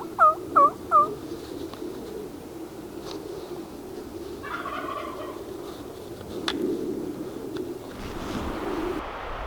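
Three loud, rapid gobbles from a wild turkey tom on a western ridge open the recording, followed by faint outdoor rustling, a distant bird call and light breeze with no talking.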